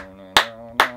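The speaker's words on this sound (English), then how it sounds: "How about some claps?" Two sharp hand claps, about half a second apart, recorded in a studio session for a song, ringing over a sustained held musical tone.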